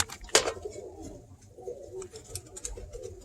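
Kit pigeons cooing in a loft, soft low throaty coos repeating close by after a brief sharp knock at the start.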